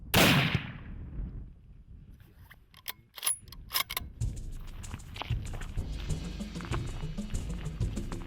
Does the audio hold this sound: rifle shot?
yes